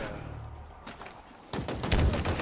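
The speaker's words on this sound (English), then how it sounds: "They all came from the left side, the one place I didn't throw grenades. Hail of gunfire." Gunfire in the video game Cyberpunk, a burst of rapid shots erupting halfway through after a quieter stretch, loud and dense like a hail of fire.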